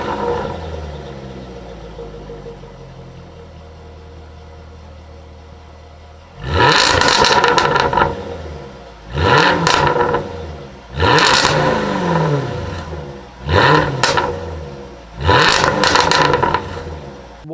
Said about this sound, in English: time for a sound test so you guys can hear this absurd exhaust